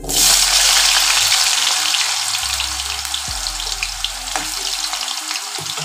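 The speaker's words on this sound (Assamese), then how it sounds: "এতিয়া মই ইয়াতে এই আলু কেইটুকুৰা অকণমান ভাজি ল'ম" Potato pieces sizzle and crackle in hot mustard oil, loud at first and settling into a steady frying hiss with scattered pops, no one speaking.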